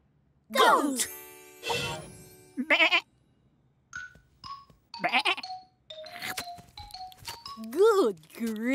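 A cartoon goat bleats in a high, wavering voice amid lively animated-show sound effects, chimes and jingles, with voices and music around it.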